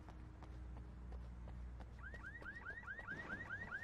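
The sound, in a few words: alarm going off as neighbours steal a trash bin, video game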